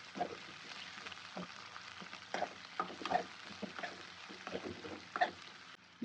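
Two onions and curry leaves frying in oil for a drumstick stir-fry, a steady close sizzle broken by repeated scraping stirs of a spoon against the pan, with no talk.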